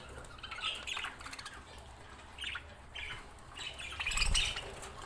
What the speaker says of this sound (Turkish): Şu an 9 tane burada muhabbet kuşumuz var.